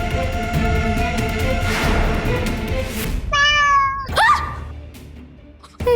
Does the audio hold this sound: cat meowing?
yes